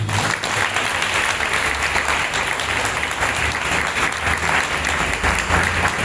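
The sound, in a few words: congregation applauding to acclaim Jesus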